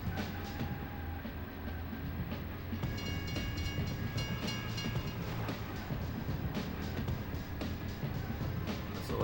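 A train passes in the Nintendo 64 racing game Beetle Adventure Racing, a continuous rumbling roll with rhythmic clickety-clack of wheels on track and a faint horn-like tone, steady and loud throughout.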